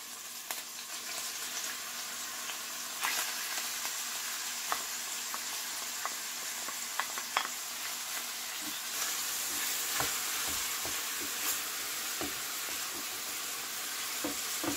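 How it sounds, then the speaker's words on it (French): Grated onions sizzle steadily in a pan with browned meat pieces for an okra in red sauce, with scattered scrapes and knocks of stirring throughout and no talking. "Je vais faire revenir l'oignon jusqu'à ce qu'il devienne translucide."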